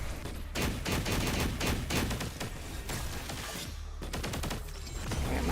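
Sustained video game gunfire, rapid overlapping shots and thumping impacts in a loud, dense barrage lasting several seconds, with a short lull before the firing resumes.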